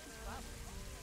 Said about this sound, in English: Why is there rain? Get away, rain.